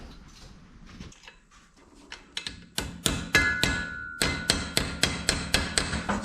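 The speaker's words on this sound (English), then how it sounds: "I'm having to tap the wrench on with a hammer to get them to break free" A hammer taps a wrench onto rounded drive shaft bolts on a 1966 Chevy dually truck. Sharp metallic clinks begin sparse and uneven, then settle into a steady run of loud, ringing strikes about twice a second.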